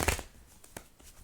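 A few quick, soft riffling bursts of cards being shuffled, close and quiet.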